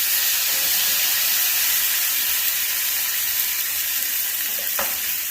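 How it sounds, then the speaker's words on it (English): A tomahawk steak sears in hot ghee in a pan, giving a loud, steady, continuous sizzle with no talking. "I'm going to set this side down in the pan here. Get some good char going."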